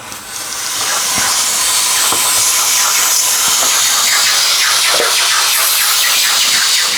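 Steady loud hiss of steam blasting from an espresso machine wand, continuous for several seconds with no talking.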